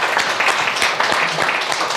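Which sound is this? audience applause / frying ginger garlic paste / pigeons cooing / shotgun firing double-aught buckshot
audience applause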